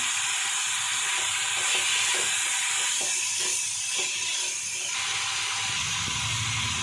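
Chicken frying in a pan for green chicken varuval, a loud, steady sizzle and steamy hiss with faint stirring taps throughout, up close and without speech.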